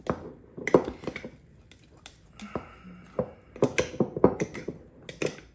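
A long knife stirs a sourdough starter mix made with einkorn flour, clinking and scraping sharply against the container in uneven bursts of close, bright clatter, with quieter scraping between strikes.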